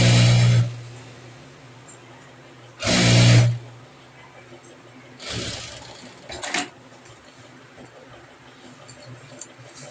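Sewing machine stitching a kurti for a Rajputi suit, running in two short loud bursts near the start, then softer intermittent stitching with quiet gaps between.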